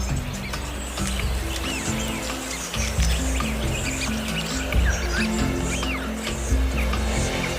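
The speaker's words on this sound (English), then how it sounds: "As each pelican comes into land on these magical waters" Pelicans come in to land on a lake amid a busy flock, with a dense, continuous wash of bird calls, chirps and low splashing, loud and steady throughout with a few surges.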